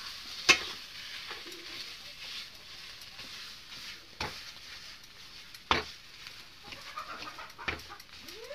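Mashed potato for egg chops is stirred and pressed in a hot pan. Soft sizzling runs underneath while several sharp scraping knocks of the spoon land at irregular intervals, close and fairly quiet.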